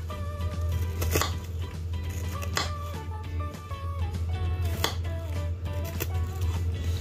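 Onion is chopped with a sharp knife without a cutting board, giving a run of irregular crisp cuts and taps over a loud steady background hum.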